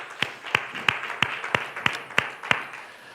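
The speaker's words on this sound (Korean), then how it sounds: "우리 서로를 격려하고 축복하면서 박수로 하나님 앞에 영광 돌리도록 하겠습니다" Church congregation clapping together in rhythm during an online worship service, eight evenly spaced claps with a light beat, moderately faint.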